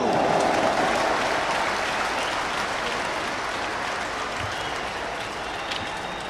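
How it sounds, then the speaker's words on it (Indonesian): A large crowd at a May Day rally in Jakarta's Senayan stadium applauds continuously, a dense roar of clapping that swells at the start and slowly tapers while staying loud throughout. "mari kita berdiri, aplaus buat calon Presiden Republik Indonesia, Prabowo Subianto"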